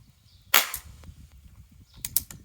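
Two sharp cracks from a CO2-powered airgun fired about one and a half seconds apart, each a brief close muzzle report with a quick metallic tail, over a faint background.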